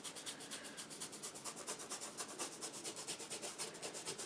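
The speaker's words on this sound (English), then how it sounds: "whatever's left over on your brush, just scrape it on down here" Paintbrush loaded with acrylic paint scraped back and forth across a surface, a quiet rhythmic rasping with steady repeated strokes, close up and without any talking.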